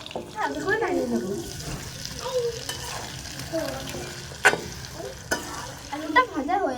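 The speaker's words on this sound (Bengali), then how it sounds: "হালকা করে নাড়িয়ে দেবো।" Potatoes coated in salt and turmeric sizzle in hot oil in a wok as they are gently stirred, with soft scraping and a few sharper clinks of the utensil against the pan, plus a brief running-water sound.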